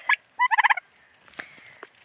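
A domestic rooster out in the jungle at night gives a short, loud burst of rapid stuttering fowl calls, followed by fainter scattered chirps and rustling.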